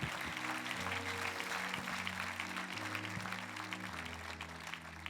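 A church congregation on a Sunday morning claps and cheers loudly and steadily, the dense applause running throughout over sustained organ or keyboard chords.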